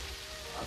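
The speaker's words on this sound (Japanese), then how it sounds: "こんな雨の中" Steady rain falls in a broad continuous hiss, soft and even, with no voices over it.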